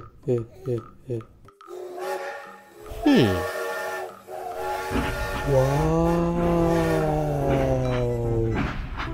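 A train whistle blows a long, sustained, wavering tone that swells and holds for several seconds, following a few short toy-like hoots and a sliding squeal.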